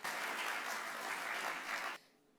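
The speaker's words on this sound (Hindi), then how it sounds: "तालियों की गड़गड़ाहट से महामहिम श्री रमेश बैस जी का स्वागत करते हैं।" A dense wash of audience applause at a governor's welcome during the inaugural ceremony of the Bharat Rang Mahotsav theatre festival in Mumbai, steady and full for about two seconds before stopping abruptly.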